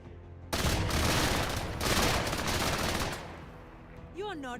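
Sustained burst of video game gunfire from the tactical game Menace, loud and dense for about three seconds before tapering off, with a short rising electronic tone at the end.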